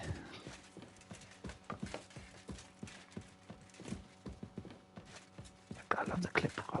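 Horse hooves clip-clop in a steady walking rhythm in Kingdom Come Deliverance 2, a run of sharp, close knocks under a voice, growing busier and louder near the end.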